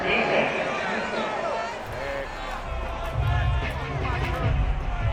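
Stadium crowd noise from an NFL football video game, a Jets at New England home crowd, swells in a broad roar reacting to a penalty flag on third down, steady and fairly loud under the commentators' talk.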